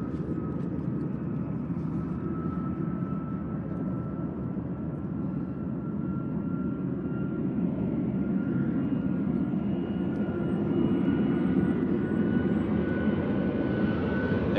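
Boeing 737 MAX 9 jet airliner taking off on its first flight, a loud, steady roar of jet engines held throughout with a faint high whine, swelling slightly toward the end, heard alone without talk.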